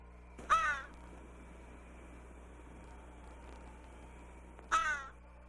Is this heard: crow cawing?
yes